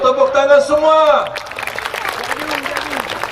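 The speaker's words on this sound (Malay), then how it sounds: "ayo tepuk tangan semua" An audience of children and adults at an Islamic lecture gathering breaks into applause as a voice finishes speaking, the clapping following as a lively, scattered patter with murmuring beneath it.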